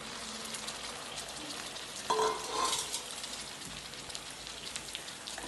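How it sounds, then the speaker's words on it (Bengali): Whole shol (snakehead) fish rubbed with turmeric and salt fries in a pan with a steady, close broadband sizzle, swelling briefly louder about midway before settling back to an even hiss. "তরকারির পুরো মাছ দিয়ে দিলাম হলুদ লবণ মাখাইয়ে"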